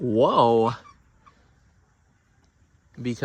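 Free-range chickens in a backyard flock, with a loud, close bird call at the start, near silence through the middle and another call at the end.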